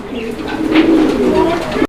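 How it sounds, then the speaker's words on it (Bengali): A big male pigeon from Gopalganj calls in a full, rolling coo, close and loud and continuous for the whole stretch, with a faint voice briefly underneath. "একদম উড়াদুড়ো ডাকের একটা নর ভরপুর ডাকের কবুতর"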